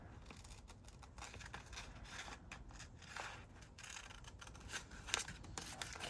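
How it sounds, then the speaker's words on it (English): Scissors snip through paper in a steady run of crisp, close cuts, with a few louder snips near the end. "let's just cut it out with some scissors"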